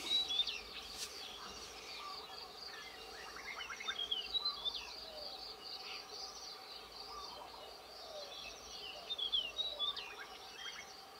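Many small birds chirp and twitter in scattered, overlapping calls, some nearby and some farther off, over a soft outdoor background hum.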